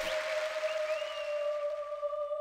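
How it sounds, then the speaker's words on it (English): Short applause sound effect from the video game Hello Charlotte, a steady synthetic clapping wash over a sustained tone, moderately loud and alone without speech. "Applause, applause."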